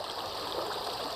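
River water flows steadily past a kayak at night, a continuous close rushing and trickling wash with no voices.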